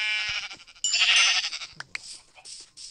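A sheep bleats in a video game, a nasal, wavering cry heard close and fairly loud, with soft sounds and a brief voice around it.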